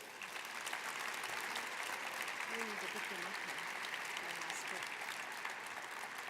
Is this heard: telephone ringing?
no